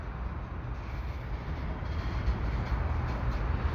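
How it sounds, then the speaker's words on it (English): A CN freight train led by three locomotives rumbles past heading west, a steady heavy roar of rolling wagons that stays loud and close throughout. "So there's 3 locomotives on the front, and it is heading back west"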